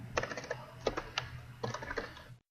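Close, quick bursts of typing on a computer keyboard, with clusters of key clicks separated by short pauses and no talking.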